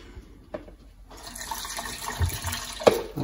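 Water poured into a cooking pot while making shrimp cakes, a soft running and splashing stream that swells toward the end, with a few sharper clinks, close by and without talk.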